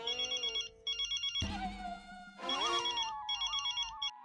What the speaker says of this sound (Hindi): तारक, किसका फोन था?